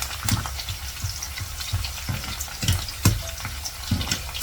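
Garlic frying in a pan with steady crackling sizzle and repeated scraping stirs, close up, no voices.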